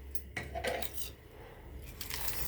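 Yellow lentils poured into a cooking pot over cut tomatoes and other vegetables for a lentil dish, producing several close, gritty rattling bursts and patters of small grains striking metal and vegetables.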